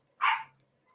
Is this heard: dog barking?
yes